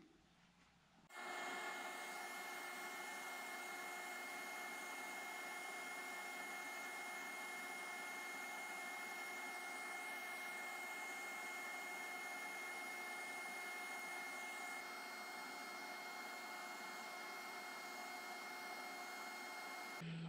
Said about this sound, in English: make sure that you blow it out really well with the air hose